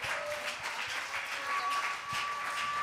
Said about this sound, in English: Would you clap your hands to the Lord one more time?